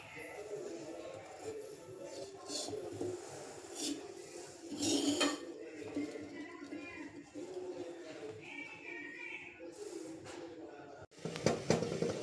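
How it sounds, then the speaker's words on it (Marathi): A metal lid comes off a cooking pot of steamed unde, a traditional tribal Makar Sankranti dish, with brief clanks and scraping of cookware while someone talks throughout. "आता झाकण उघडून चेक करूया म्हणजे शिजलेत की नाही ते"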